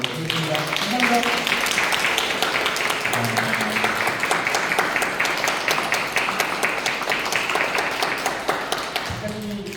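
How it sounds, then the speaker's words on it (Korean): An audience claps steadily and warmly to close an artist talk at a gallery, dense applause lasting nearly ten seconds, with a voice talking over the start before the clapping fades out. "서로가 서로에게 감사한 마음을 전하는 박수와 함께 아티스트 토크 마무리해드리도록 하겠습니다"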